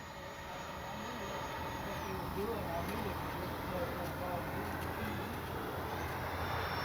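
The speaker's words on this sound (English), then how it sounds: "Sweet flying F-22." A Freewing 80mm F-22 RC jet flies past with a steady, continuous whooshing turbine roar, moderately distant and even in loudness throughout, with a faint high whine riding on top.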